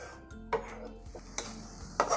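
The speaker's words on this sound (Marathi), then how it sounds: "आता आपण मसाला हा 5 मिनिटं शिजवून घेऊया." Koli-style masala for stuffed mackerel cooks in a pan over medium heat. Soft frying hiss runs beneath a few sharp spoon clinks and scrapes against the pan, spaced about half a second apart.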